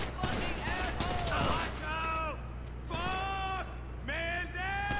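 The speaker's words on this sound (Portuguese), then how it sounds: "eu tomei altos tiros aqui" Bursts of gunfire crackle during a mission in GTA V Online, dense rapid shots early on and lighter pops later, heard beneath someone talking throughout.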